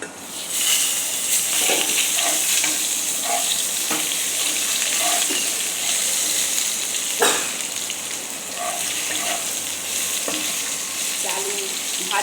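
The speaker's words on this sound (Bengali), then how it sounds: "আলু ভাজা প্রায় হয়েছে, আর একটুখানি হবে।" Potatoes fry for khichuri in hot oil, giving a steady, close hiss and sizzle with occasional stirring clinks, continuous and alone without talk.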